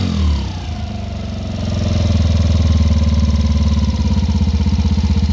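A 2016 Yamaha Raptor 90 ATV engine idling as it warms up after carburetor cleaning and repair, a loud, close, steady pulsing putter that rises slightly and settles into an even rhythm.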